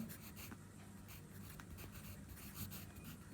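Pen or marker writing on a school timetable chart during a maths lesson, steady faint scratching strokes over a low background hum, no talking.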